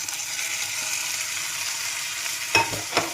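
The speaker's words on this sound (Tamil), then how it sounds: "தக்காளி நல்லா வதங்கட்டும்" Mixed vegetables and tomato sautéing in a pan for chapati noodles, a steady close sizzle running throughout, with two sharper scraping stirs near the end and no speech.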